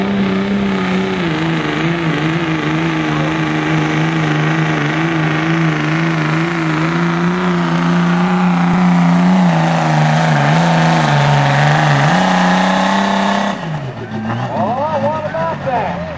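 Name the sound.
Ford diesel truck engine revving during a truck pull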